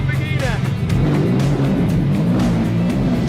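A Lamborghini engine idles and revs just after being started, a steady throaty rumble with rising and falling revs, while people talk over it close by.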